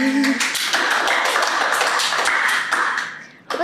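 Brisk hand clapping from a small group in an indoor podcast setting, a quick, even patter of claps close up that fades toward the end before a short final burst.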